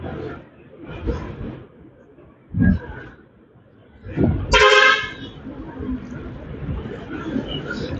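A vehicle horn honks loudly in a brief bright blast amid traffic noise, with someone talking before and after it nearby.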